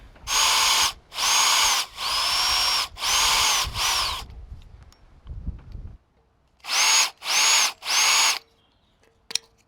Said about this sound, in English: I can just drill the rivets out and re-rivet it on when I'm done